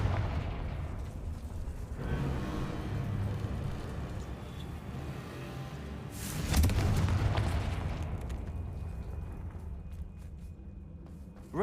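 Confringo spell explosions in Hogwarts Legacy, deep booming blasts with rumbling tails, one sharp loud burst standing out midway before fading into lingering debris noise.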